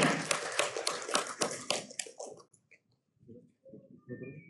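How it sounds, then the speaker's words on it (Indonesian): Audience applause at an Islamic higher education award ceremony, a dense burst of clapping that fades after about two seconds, followed by a person talking. "Kita beri aplaus yang meriah."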